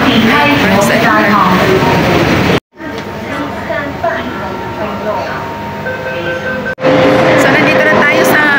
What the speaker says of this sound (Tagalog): Maingay ngayon kasi dito tayo sa loob ng tren.